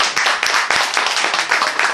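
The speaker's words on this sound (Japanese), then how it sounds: "山子先生には拍手をお願いします。" An audience at a painting exhibition in a garage gallery applauds a painter after a live painting performance, a close, lively burst of many hands clapping continuously.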